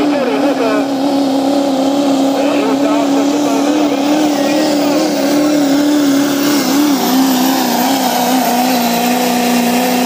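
A 2006 Chevrolet drag race car at Princeton accelerates down the track with a loud, sustained engine drone that holds a strong, steady pitch, while a commentator talks over it.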